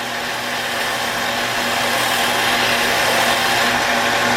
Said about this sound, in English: We'll stick it in the lathe and we'll sand it down just a little bit to make sure it fits inside of here.